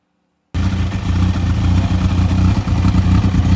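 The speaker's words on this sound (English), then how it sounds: "I will show a video of what this beautiful exhaust sounds like" A Kawasaki ZX12R motorcycle fitted with a Yoshimura RS3 exhaust starts after a brief silence into a loud, steady, close engine rumble that holds for about three seconds.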